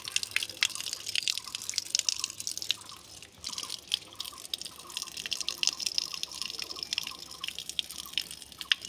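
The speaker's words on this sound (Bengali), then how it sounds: "হাত ধোয়া" Hands being washed under a running tap, with steady splashing and dripping water close by and irregular droplet patter throughout, with no voices.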